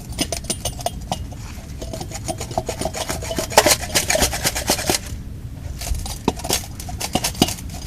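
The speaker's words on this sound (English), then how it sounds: "you scrape out all the rust off it, because we're gonna take this backing plate off it" Harsh, close scraping as rust is rubbed off the wheel hub backing plate of a Chevy Trailblazer, with continuous rasping strokes and metallic clinks throughout.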